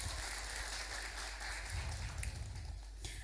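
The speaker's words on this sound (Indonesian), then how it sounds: "Beri tepuk tangan sekali lagi." Audience at a capital-market seminar for university students gives a round of applause, steady dense clapping filling the room at moderate level with no voices over it.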